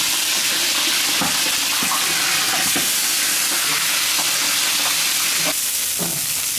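Bighead carp hits hot liquid in a pot while cooking a fish stew, giving a loud, steady, close sizzling hiss with occasional soft knocks and no talking.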